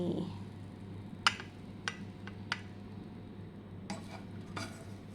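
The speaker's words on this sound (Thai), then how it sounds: "ตักไข่ใส่จานนะคะ" Soft scrambled egg is spooned onto a plate, with several sharp, close metallic clinks of a spoon against the dish over a quiet kitchen background hum.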